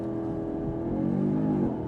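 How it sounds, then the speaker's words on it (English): A 2025 Audi S3 launching hard under launch control, engine note rising steadily and close, with a brief gear-change dip near the end, alone without talk. "let's spice things up a little bit with a launch control in the S3"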